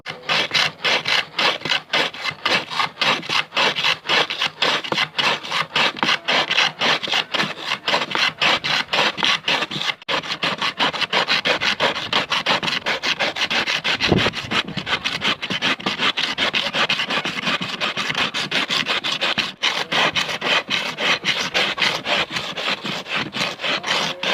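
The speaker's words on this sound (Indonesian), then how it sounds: "Namun ini ada sisa es doger yang sudah saya bekukan kembali. Kita akan serut kembali ya teman-teman." Refrozen es doger, an Indonesian iced coconut dessert, shaved by hand in a rapid, continuous rhythmic scraping that rasps back and forth for a long stretch, loud and close.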